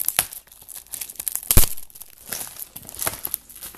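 Plastic wrap on a Blu-ray combo pack of The Watch being sliced and torn open with a Stig knife, close crinkling and ripping in short bursts with one sharp loud tear midway.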